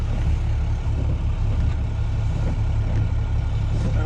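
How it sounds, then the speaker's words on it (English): A car turning in off the road, heard as a steady, close engine rumble with deep low-end drone and broadband road noise that holds evenly throughout. "Oh, car turning in."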